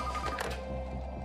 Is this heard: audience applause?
no